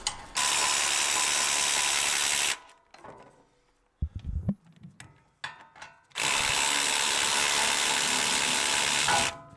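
Close, loud ratchet wrench spinning off the caliper bolts on a 2016+ Toyota Tacoma front brake, in two long continuous bursts with a gap of clicks and metallic handling between them.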